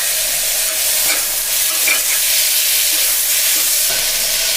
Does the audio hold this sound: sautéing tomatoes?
yes